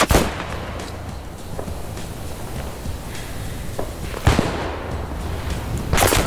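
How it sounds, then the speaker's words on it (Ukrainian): Grenade blasts and gunfire in the WWII shooter Squad 44 on a Crete battle map: a loud sharp burst at the start, steady rumbling combat noise, then another heavy explosion near the middle and a final blast at the end. "Зараз граната полетить до мене, диви."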